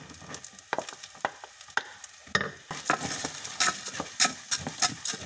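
A spoon scrapes and clacks against a pan while food with added carrots is stirred, irregular knocks at first, then faster rhythmic scraping with faint sizzling, close and clear.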